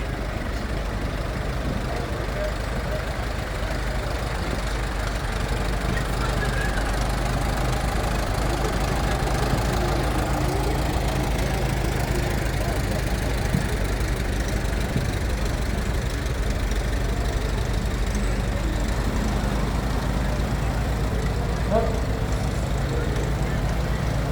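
A Case 930 tractor rumbles steadily in a parade, its engine running loud and continuous throughout, with voices talking over it.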